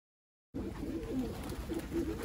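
Pigeons coo in a steady, overlapping chorus at close range, starting abruptly after a short silence and continuing without pause, in a flock kept for fighting and flying.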